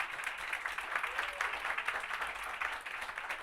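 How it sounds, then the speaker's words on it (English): An audience at a film talk applauds in a steady, soft wash of many hands clapping, heard from some distance with no voices over it. "Please give another round of applause."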